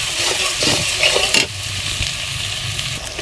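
Dried fish (shutki) fries loudly in a pan with spices, a dense crackling sizzle with scraping stir strokes in the first half that settle into a steadier hiss.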